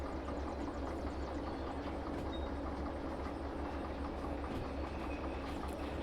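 A steam locomotive in a train video game gives a steady, continuous rumble of running rail noise with faint clicking, even and unbroken throughout.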